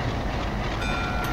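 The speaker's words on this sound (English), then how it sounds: "That is a train behind us." A train rumbles past close behind in a train simulator game, a loud steady roar of rolling wheels and rail noise filling the short moment without any talk.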